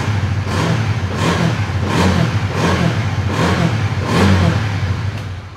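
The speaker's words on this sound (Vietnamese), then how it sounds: "Con này cho anh em nghe bô zin luôn nè." A motorcycle engine with its stock exhaust is blipped repeatedly, producing about six rhythmic rev surges over a steady running drone, fairly close and moderately loud, with no speech.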